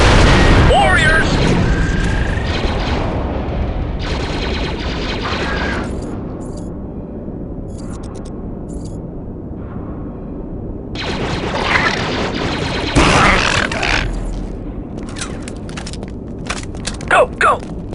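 Gunfire and explosions rumble through a battle in the Star Wars Republic Commando video game, with heavy booms and bursts alongside dense crackling shots, loud throughout and settling into a lower roar midway.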